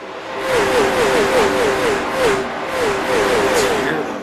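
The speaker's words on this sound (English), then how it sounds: "Hear those engines." Stock car race engines at the NSRL Rattlesnake Hill Classic 125 drone and whine loudly as cars lap the track, the pitch rising and falling repeatedly as several machines pass in close succession.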